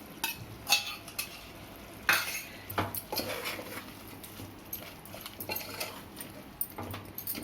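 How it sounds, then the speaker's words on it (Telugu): Onions fry in oil for a Hyderabadi chicken fry piece biryani, a quiet sizzle broken by intermittent spoon scrapes and clinks against the pan, close but soft. "ఆనియన్స్ని ఇలా వేయించుకోవాలి, అవి కూడా ఇందులో వేసుకోవాలి"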